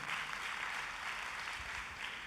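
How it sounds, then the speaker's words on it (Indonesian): A church congregation clapping together in a continuous, even wash of applause, slightly distant and filling the room throughout. "Tepuk tangannya pula yang paling meriah buat Tuhan kita"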